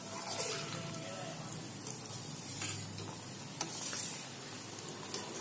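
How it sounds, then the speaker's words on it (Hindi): Five or six soya kebabs fry in oil over a low flame, giving a steady, close sizzle with faint crackles and an occasional stir throughout, with no talking. "तो अभी हमने 5 से 6 कोफ्ते डाल दिए हैं और धीमी आंच पर इसे पकाते जाएंगे।"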